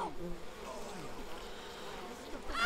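A swarm of bees in the video game We Happy Few buzzes steadily and closely, a low, continuous droning hum with slight wavering pitch and no talk over it.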